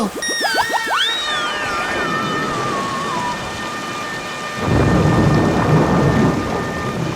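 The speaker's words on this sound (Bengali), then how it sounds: "দেখলে তো কি জোরে বাজ পড়লো সঙ্গে সঙ্গে" Loud thunder rumbles over steady heavy rain flooding a village, with a rising whistling tone early on; the downpour grows louder and denser toward the end.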